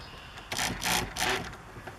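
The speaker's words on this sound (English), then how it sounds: "Now I'm just going to put bolts in these." Ratchet tightening bolts into an aluminum frame on a 2008 Aliner Classic A-frame trailer, a few quick, soft clicking strokes in close succession.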